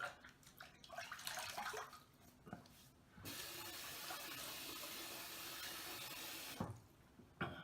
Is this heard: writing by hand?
no